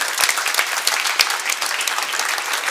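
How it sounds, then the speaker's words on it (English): A crowd applauding a tournament player at a sports event, a dense, loud, continuous burst of clapping from many hands filling the whole moment. "so let's give her a big round of applause."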